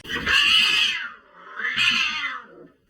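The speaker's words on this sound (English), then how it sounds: "There was a cat." A cat meows twice, two loud, drawn-out cries close by, separated by a short pause, with nothing else around them.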